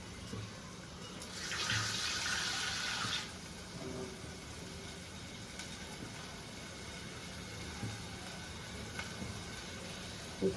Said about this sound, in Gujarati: થોડું પાણી નાખી દઈએ